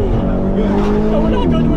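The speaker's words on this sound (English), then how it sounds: "It's a Lamborghini Urus, so his brakes better be immaculate." A Lamborghini Urus braking hard on a highway, tires squealing: a close, loud burst of road and engine roar with wavering high-pitched squeal lines across the whole short moment.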